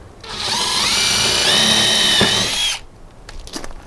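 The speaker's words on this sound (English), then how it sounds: "I'm going to be drilling into this little surface here" A power drill bores mounting holes for a retractable screen door, one loud continuous whine lasting a few seconds before stopping, followed by light clatter, close up with no talk.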